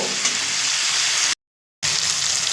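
Chicken pieces with figs and potatoes sauté in a pan with a steady, close, loud sizzle, broken by a short full silence midway before the frying resumes.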